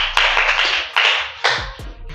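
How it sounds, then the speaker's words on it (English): A classroom of pupils claps for a classmate, with several quick bursts of hand claps rising and falling over two seconds, close and lively, with no one speaking. "clap for him"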